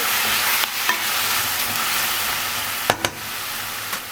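Onions sautéing in a pan give a broad, steady sizzle, with a few sharp scrapes and taps of a spoon against the pan breaking through, one pair close together near the end.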